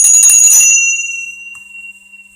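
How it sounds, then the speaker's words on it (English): A small bell is struck once, giving a bright metallic ring with clear high tones that rings on alone and slowly decays, with a faint second tap partway through. "we're taking one of my favorite little bells"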